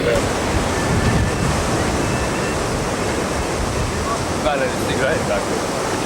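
Rushing white water on a river, a dense, steady roar that fills the whole clip without letting up, with a faint higher whistle near the end.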